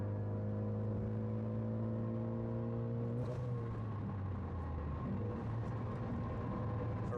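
Cabin drone from a 2014 Ford Focus ST cruising at 90 in sixth gear: a steady low engine hum with road and wind roar, constant and moderately loud, briefly disturbed by a bump midway.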